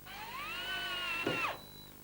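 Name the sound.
drilling clearance hole in model railway baseboard frame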